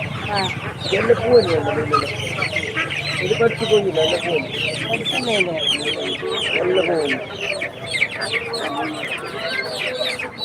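Market chickens, including fancy breeds, keep up a dense, close chorus of clucks and squawks with the odd crow, while several people talk over them amid steady crowd noise.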